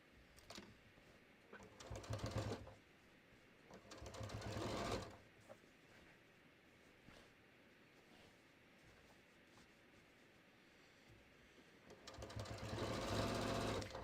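A sewing machine stitching a linen cushion cover runs in three separate bursts of steady mechanical whirring, near and moderately loud, with quiet pauses between the runs.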